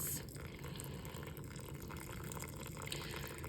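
Water poured from a white cup onto the top of a stream erosion model, a steady soft trickling and splashing flow that runs continuously at low volume throughout.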